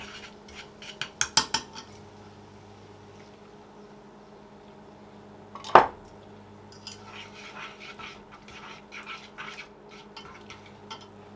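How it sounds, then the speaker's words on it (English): A spoon stirring milk and double cream in a bowl for a cheese and onion pie filling, with a quick burst of clinks, one sharp knock, then soft scraping and faint rattles, close and quiet. "So in with the milk and cream, give it a good mix around."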